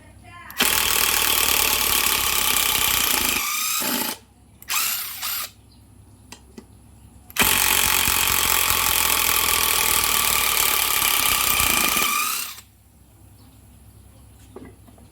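Impact driver running hard as it drives a 10 cm hex-head screw, two long loud whirring bursts with a short stuttering pulse between them, close and dominant, with brief pauses of quiet.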